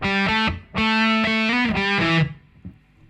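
Overdriven electric guitar runs through a song's main riff, a brief series of clear, close notes that cut off and leave a faint tail and a small pluck.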